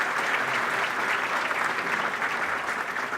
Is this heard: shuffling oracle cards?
no